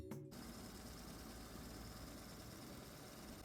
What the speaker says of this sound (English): It's a good running engine to me.